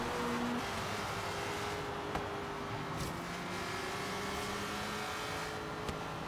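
A Ford Falcon XE in Forza Horizon 3 drives with a steady engine drone and faint tonal whine, holding an even level throughout with a few brief clicks.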